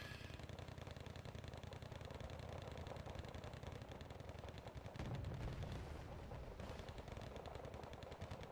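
Rocket artillery firing in the Wargame Red Dragon video game, a dense continuous barrage of rumbling launches and booms over a steady engine drone, loud and sustained throughout with a heavier surge midway.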